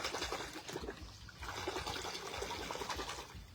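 Hands are rinsed under running water at a fishing spot, a faint, steady trickle and splash that runs throughout with no voices.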